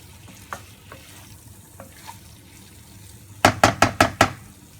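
Okra is stirred into softened fried tomatoes in a pan, low sizzling under faint scattered taps, then a quick run of five sharp spoon knocks against the pan near the end.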